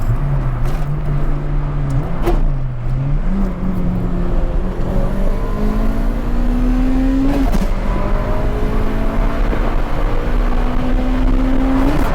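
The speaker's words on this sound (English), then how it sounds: "Do you mind if we hear these sports cars?" Engine of a 1999 Honda Civic hatchback with a swapped engine revving steadily and loudly nearby, pitch rising and falling through repeated throttle blips over a constant rumble.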